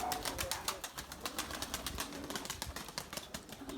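Erzurum white breeding pigeons in a loft, soft repeated cooing over a run of sharp, close rhythmic taps and flutters, with no one speaking.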